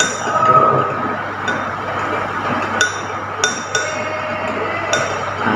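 A spoon clinks against a glass of iced sweet milk tea, several bright taps and scrapes at an uneven rhythm over a soft background, close and fairly distinct.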